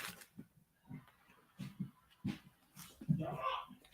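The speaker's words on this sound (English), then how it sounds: "I hear the dogs causing problems." Several house dogs whimper and give short yips and low barks in scattered bursts, fairly faint and somewhat distant, with one louder whine near the end.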